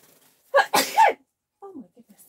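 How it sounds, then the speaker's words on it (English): A single person's sharp sneeze bursts out close and loud after a brief inhale, followed by a quieter murmured voice. "I've got a sneeze."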